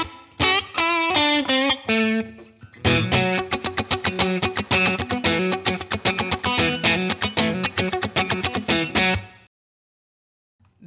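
Clean electric guitar plays chords and funky single-note lines through a Cloudburst ambient reverb pedal, a spacious, shimmering effect, with the notes ringing briefly before silence.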